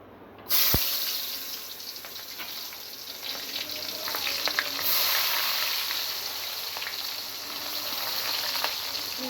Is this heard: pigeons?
no